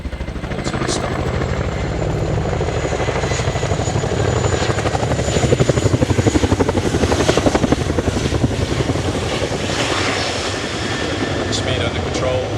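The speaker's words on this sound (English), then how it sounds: "The Chinook is now expeditiously brought to a stop." A Royal Air Force Chinook HC.5 twin-rotor helicopter at the RIAT 2024 air show, its rotor beat a loud, steady throb with rumbling engine noise throughout as it slows to a hover, with an announcer talking over it.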